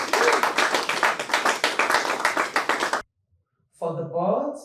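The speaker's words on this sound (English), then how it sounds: "Can we give them a round of applause, please?" Audience applause at a formal environmental risk conference, a dense burst of clapping lasting about three seconds, then a short pause and a voice speaking.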